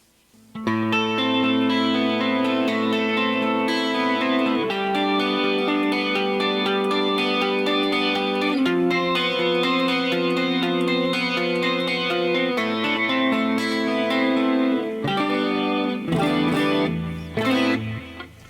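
An electric guitar rings out sustained chords that change in a steady pattern, with a few quicker strums near the end.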